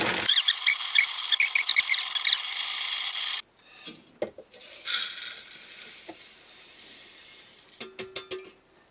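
A hand-cranked grain mill grinding wheat berries gives a dense, rapid rasping grind for about three seconds, then stops, followed by fainter scraping, clicks and short rubbing bursts near the end.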